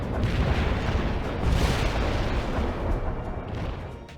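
Artillery fires in a Battlefield-style PC game as a dense, continuous roar of booms and blasts, loud and close with no gaps, with no voices.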